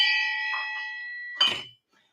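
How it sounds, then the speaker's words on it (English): A shang bell, a traditional Bon ritual instrument, rings with a bright sustained metallic tone that slowly fades, then is struck again for a sharp clang that dies away into silence. "this is an example of a shang bell"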